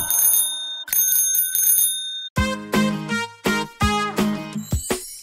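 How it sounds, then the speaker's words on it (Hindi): A bicycle bell rings in quick repeated trills within a Hindi children's song, followed by a bright melodic chime-like jingle with bell tones in a bouncy rhythm. "टन टन टन टन घंटी बजाते"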